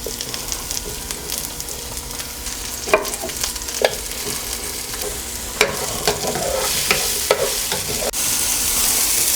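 Tomatoes frying in a pan over a medium flame, a steady close sizzle with occasional stirring scrapes and sharp pops throughout, no voices.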